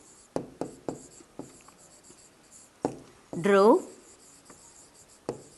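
Pen or chalk writing an answer by hand in a maths lesson, a series of short scratchy taps and strokes at close range, with a teacher talking between them.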